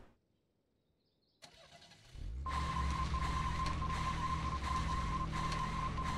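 A car engine in the game Deadly Premonition: The Director's Cut cranks and catches after a near-silent pause, then settles into a loud, steady idle drone with a persistent tonal hum, no voices over it.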